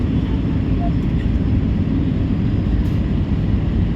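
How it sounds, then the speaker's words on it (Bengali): An airplane's engines roar during takeoff, heard from inside the cabin as a loud, steady, deep rumble that holds evenly throughout. "এবার আমরা টেক অফ করলাম"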